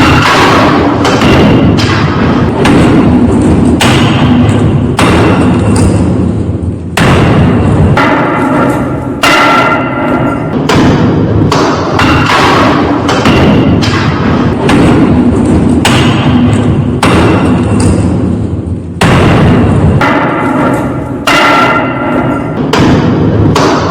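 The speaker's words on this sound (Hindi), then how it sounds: "संभल में बुलडोजर पहुंचे उससे पहले ही लोग देखिए अवैध इमारत पर हथौड़ा चलाने लगे।" Hammers pounding on an illegal building in Sambhal as people demolish it before bulldozers arrive, loud repeated metallic thuds and clanks in a dense, continuous outdoor din.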